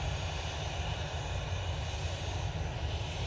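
A TUI airliner's engines roar in a steady, broad drone at Manchester Airport, constant and fairly loud throughout with no voices.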